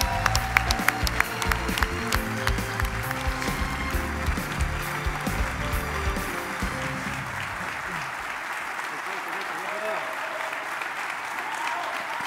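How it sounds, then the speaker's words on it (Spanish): A large crowd at a Sports Emmys gala applauds loudly, with music and voices mixed in at first, then the clapping continues on its own before tapering off. "Recibamos con un fuerte aplauso"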